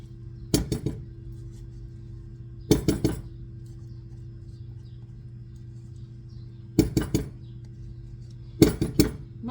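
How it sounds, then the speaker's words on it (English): Potato salad with cilantro being moved into a bigger bowl: four separate clusters of sharp dish and utensil clinks spaced seconds apart, close and clear against a quiet room hum. "So I'm just going to transfer it to a bigger bowl."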